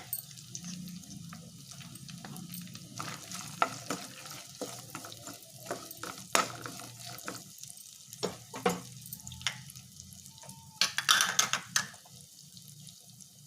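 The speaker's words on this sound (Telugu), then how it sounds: "తర్వాత జీలకర్ర వెల్లుల్లి రెబ్బలు ఉల్లిపాయలు కరివేపాకు వేసుకొని ఫ్రై చేసుకున్నాం" Cumin, garlic cloves, onions and curry leaves frying in oil in a kadai for alasanda karam, a soft steady sizzle with scattered crackles, light stirring clicks and a louder spitting burst near the end, no talking.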